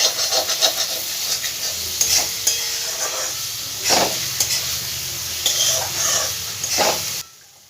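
Potatoes sautéing in masala in a pan while a spatula stirs them, with repeated scraping strokes over a continuous close sizzle, no voices.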